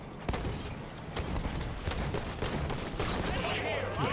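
Sustained gunfire crackles through a Halo 5 campaign battle, a loud, busy fusillade of rapid shots with mechanical clatter. A voice talks over part of it, and a high, wavering electronic whine rises at the end.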